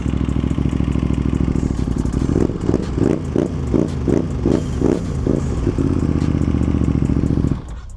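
An Aprilia RS 660 Factory sport motorcycle engine on a racetrack drones loud and steady, then rises through a run of rapid revving pulses before settling back to a constant roar and dropping off at the end.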